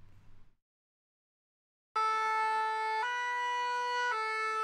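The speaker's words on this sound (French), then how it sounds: "La sirène retentit" After a brief silence, an ambulance siren blares loud and steady, its pitched tones shifting at regular intervals.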